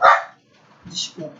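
A dog gives one sharp, close bark, and a person starts speaking right after it.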